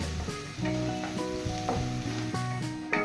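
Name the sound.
onion frying in oil until brown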